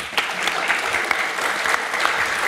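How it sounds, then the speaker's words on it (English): Audience applause at a tech talk, a dense, even wash of clapping with scattered sharper individual claps standing out throughout. "So give him a round of applause."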